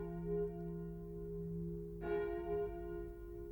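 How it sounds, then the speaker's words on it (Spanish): Church bell of the former convent of Santo Domingo de Guzmán in Oaxaca, ringing steadily with a long, humming sustained tone, then struck again near the middle with a bright new strike that rings on; no talk. "El sonido de la campana marcaba las actividades de la vida conventual"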